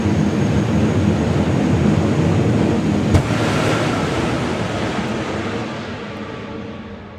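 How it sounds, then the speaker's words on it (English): Turbine-powered drag racing car at an FIA FIM drag racing event spooling up and launching: a loud, steady jet-like roar, a sharp crack midway, then a roar that slowly fades into the distance. "he'll bring that turbine up to full RPM. You'll see some smoke go out the back and then he's going to let it go."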